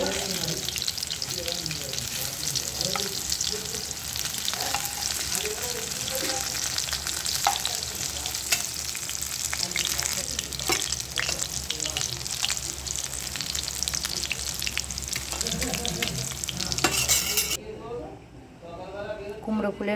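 Pumpkin flower fritters coated in gram flour batter fry in hot oil with a constant, dense, close sizzle, while a voice talks over it, and the sound drops away near the end.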